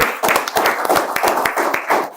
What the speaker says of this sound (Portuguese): Receber uma salva de palmas para o Ranieri, Elaine e Pedro Ivo.